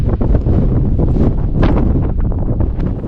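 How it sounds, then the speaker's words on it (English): Strong, gusty wind on a cliff in Nevada buffets the microphone with a constant heavy roar, surging louder in places, with no voices. "It was indeed a cliff, an almost unbelievably windy cliff."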